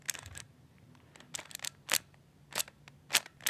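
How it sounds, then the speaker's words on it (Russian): A magnetic Rubik's cube is turned in quick, crisp plastic clicks and snaps. The bursts are irregular and close-up in a quiet room, with no voices. "Он магнитный и очень легко двигается."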